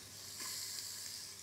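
Chopped onions sizzling in olive oil in a multi-cooker set to browning, a steady close hiss of frying that swells slightly as they hit the hot oil, with no voices.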